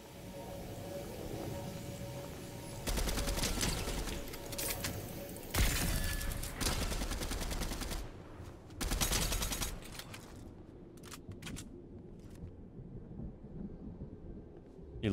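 Charge shotgun blasts in a Fortnite Zero Build match, a loud burst of heavy gunfire with several booming shots spread over the clip, fading to quieter game ambience near the end.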